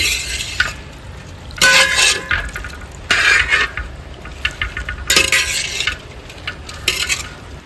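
Basmati rice being stirred in a pot, with repeated bursts of gritty scraping and clinking in an uneven rhythm, close and fairly loud over a quiet background.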